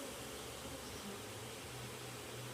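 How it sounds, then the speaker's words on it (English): Honeybees in an active, crowded hive give off a low, steady buzz during a hive inspection. The hum is faint and continuous, with no talking. "as you can see, lots of activity in the hive"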